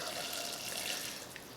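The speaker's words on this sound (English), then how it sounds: "And I'm going to be adding 2 cups of boiling water" Boiling water is poured steadily onto tamarind paste, making a continuous splashing pour that holds at an even level throughout.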